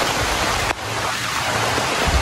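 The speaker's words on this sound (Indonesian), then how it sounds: "karena hujannya udah mulai lebat" Heavy rain pours steadily on a garden plot during a peanut harvest, a dense, loud, continuous hiss with a brief dip partway through and no talking.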